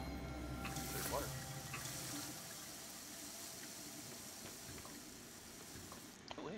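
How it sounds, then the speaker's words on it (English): Water running in the sci-fi game Prey, a steady broadband hiss like a flowing tap or stream, moderately loud and continuous, fading slightly after the first couple of seconds. "There's water."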